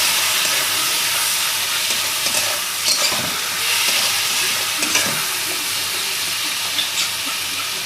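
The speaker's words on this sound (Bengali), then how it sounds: "আর একটু হলুদ দিয়ে আমি এটা ভালো করে নাড়াচাড়া করব" Ripe pointed gourd fries in a pan with salt and turmeric as it is stirred, a strong continuous sizzle broken by a few scraping strokes from the spatula.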